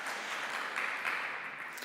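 An audience at a nuclear weapons ban forum applauds faintly and steadily, a soft, distant patter of clapping with no pauses.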